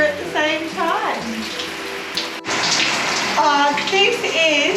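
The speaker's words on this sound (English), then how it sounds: "Showering and enjoying nature at the same time." An indoor shower runs steadily in a caravan park bathroom on the Burnett River, with a close, full hiss of water throughout while a person speaks over it and birdsong-like tones drift in.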